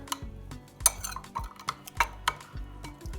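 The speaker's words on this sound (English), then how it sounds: "So now I'm gonna give it a nice mix." Fish marinade stirred in a bowl for Caribbean fried red snapper, with a spoon knocking and scraping against the bowl in several separate clinks and taps, close and fairly quiet.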